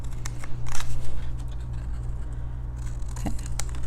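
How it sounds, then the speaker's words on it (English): Scissors snip the corners off scored paper in a few quiet, crisp cuts, heard close over a steady low background hum. "I'm going to grab my scissors and I'm going to cut off the corners on here of where my score marks are"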